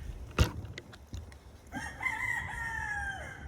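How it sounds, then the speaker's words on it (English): A rooster crows once, fairly distant and clear, at a solar electrician's job site, preceded by a few soft knocks and handling noises. "y'all hear the rooster."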